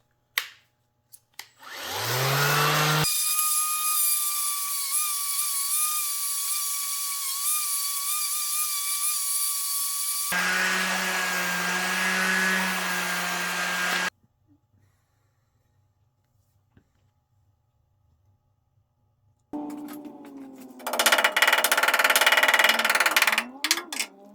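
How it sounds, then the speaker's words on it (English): A power sander works a panel for a Toyota Starlet KP61 racecar, with long steady whining runs of the motor, a quiet pause, then a louder rougher burst of sanding, close and loud. "So now what I'm gonna do is sand the outer area and not this center area, only the outer area with this."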